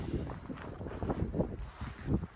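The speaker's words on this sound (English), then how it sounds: "It's a little windy out today" Gusty wind buffets the microphone in uneven low thumps and rushes, steady throughout with no clear voices.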